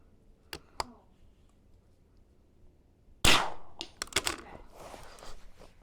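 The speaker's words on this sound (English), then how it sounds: "And now I shoot the 100." Rifle shots at an NRL 22 shooting match, two sharp cracks early, then a loud close report near the middle followed by several more rapid shots and clatter.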